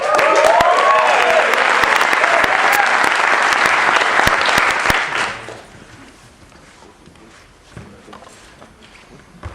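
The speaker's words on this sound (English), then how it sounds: "Let's hear it for Brian Cook" A crowd applauds loudly and warmly for several seconds, then the clapping fades out, leaving quiet room noise with a few scattered claps.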